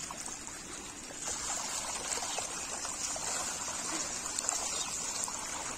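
Steady water trickles and runs through a flooded rice field planted with seedlings, a continuous close, moderate babbling stream with no voices.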